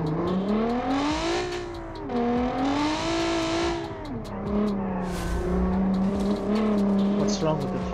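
A rally car with a 3.9 liter V6 making 406 horsepower, driven in BeamNG.Drive, revs hard through several gear changes, the engine note climbing and dropping, loud and close with brief tire noise.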